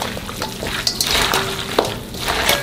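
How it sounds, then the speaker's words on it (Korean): Young radish kimchi being tossed and mixed by hand with seasoning, giving soft wet squelching and rustling with a few sharper clicks against a bowl, close and moderately loud, no talking. "열무가 이렇게 뭉쳐있으니까 털면서 잘 양념이 섞일 수 있도록 골고루 섞어주세요."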